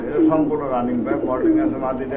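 Grizzle pigeon paired with a homer hen, offered for sale, give soft low cooing that wavers and repeats close by, blended with steady talk over the birds.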